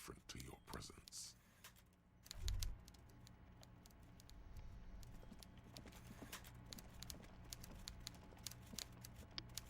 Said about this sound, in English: Everard Clare clatters away on his typewriter, willfully indifferent to your presence